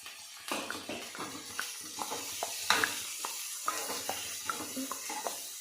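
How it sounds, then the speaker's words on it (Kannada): Vegetables frying in oil in a home kitchen pan with coriander, a steady close sizzle broken by scattered crackles and pops as they are stirred. "ಸೊ ಈ ಥರ ಇದು ಎಣ್ಣೆ ಒಳಗೆ ಹುರಿಬೇಕು."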